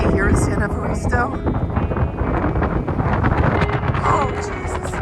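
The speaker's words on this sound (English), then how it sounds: "It's really windy here in San Evaristo." Strong wind buffets the microphone at the San Evaristo anchorage aboard the sailboat, a loud continuous roar with gusty surges and rustling throughout.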